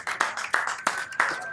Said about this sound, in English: Let's give a big round of applause to Mike